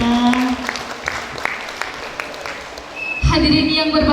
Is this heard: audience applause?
yes